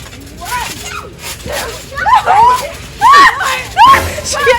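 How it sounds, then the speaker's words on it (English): A girl on a trampoline for her first time lets out repeated high, sliding screams and squeals in bursts as she bounces, and other voices chatter underneath. "The way she screams."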